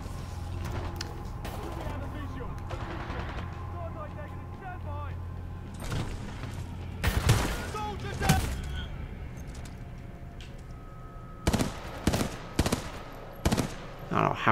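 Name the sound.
gunfire in the video game Titanfall 2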